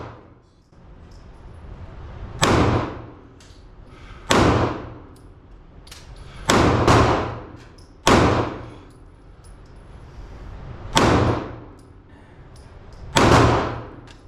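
Six sharp, loud shots from a 9mm pistol firing CCI Blazer 115 grain FMJ ammunition, spaced unevenly over about fourteen seconds, each with a brief decaying tail and no talk between them.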